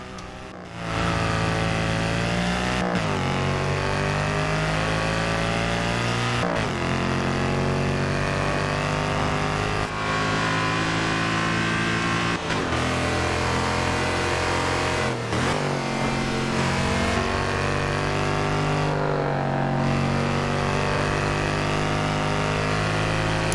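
A car in Forza Horizon 4 drives and revs hard, its engine climbing through gears in a steady loud roar with brief drops at each shift, close and continuous.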